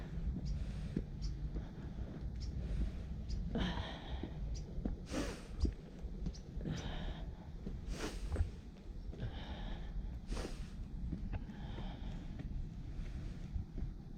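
Heavy breathing after climbing stairs, close and loud, with a series of sharp snorting inhales and exhales at an uneven pace over steady wind noise.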